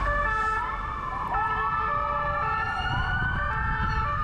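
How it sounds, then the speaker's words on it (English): Several American police car sirens wail at once in the distance, their pitches overlapping and sweeping, over a low rumble of street traffic. "Ooh, you hear those American sirens?"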